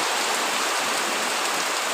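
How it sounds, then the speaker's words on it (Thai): Heavy rain pours down around a rural house, a dense continuous hiss of water striking surfaces that stays loud and even for the whole short stretch, with no voices. "ฝนตกหนักครับผมมือนี้"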